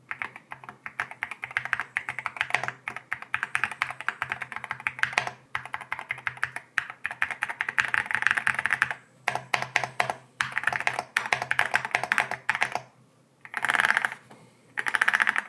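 Typing on an Akko MU02 wooden keyboard fitted with pink rosewood switches: a dense, steady clatter of keystrokes in bursts with short pauses, close and moderately loud, with no voices.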